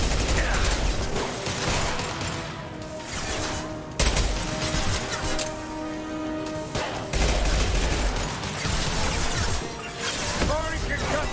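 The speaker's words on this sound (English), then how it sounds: "Firing an impact gun." Impact gun fire in Mass Effect 2, loud and dense bursts of weapon discharge with crashing impacts that carry across the whole stretch, over game music and background effects.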